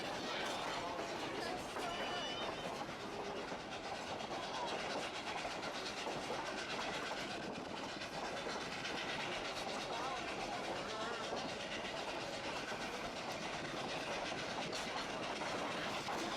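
Durango & Silverton narrow gauge train running near Silverton, a continuous loud rumble with rhythmic clickety-clack and hissing steam, steady and close throughout with a voice talking over it.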